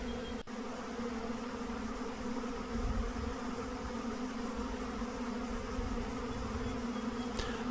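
A dense, steady buzzing of many bees swarming on tree branches, continuous and close, with no voices, just the constant hum of a swarm.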